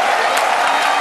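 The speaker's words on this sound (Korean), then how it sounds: "많은 관중들 지금 환호하고 있습니다." A large arena crowd roars and cheers continuously after a King of Martial Arts GP kickboxing knockout by elbow in the third round, a dense loud wash of voices and applause.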